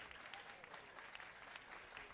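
Baseball crowd at a Cape Cod league game between the Cotuit Kettleers and Hyannis Harbor Hawks, clapping in a steady slow rhythm at a distance, a dense wash of handclaps with no speech over it.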